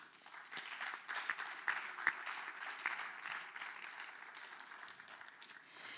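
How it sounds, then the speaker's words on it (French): Audience applause at the opening conference of a heritage forum, a steady wash of many hands clapping that swells briefly and then holds even, moderately loud and heard alone without talk. "Sous vos applaudissements, La Falaise Dion nous rejoint."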